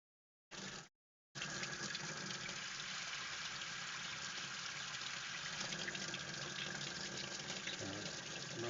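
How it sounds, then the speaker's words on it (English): Tap water gushes steadily over an Anubias aquarium plant, a short burst at first, then a brief pause and a continuous close, even splashing flow. "Run some water over that."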